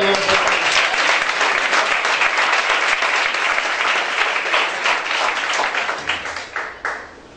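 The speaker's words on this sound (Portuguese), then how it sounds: "Aplauda o Senhor." Church congregation applauding in a sustained wave of dense clapping that holds loud and even for several seconds, then thins out and fades near the end.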